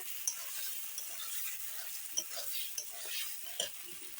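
Potatoes fry in a spiced masala with turmeric and salt while being stirred, giving a soft steady sizzle broken by a few sharp utensil scrapes and clinks against the pan.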